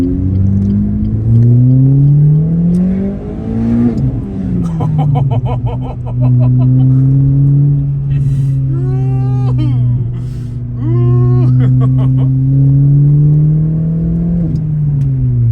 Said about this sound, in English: Let me try putting it in second and take it all the way up.